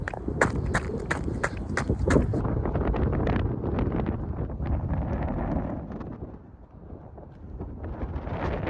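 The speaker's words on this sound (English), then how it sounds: "It's far too windy and the conditions on the trail are not great." Strong wind buffets the microphone on a trail, a constant roar heard together with rhythmic running footsteps on stiff, uneven ground.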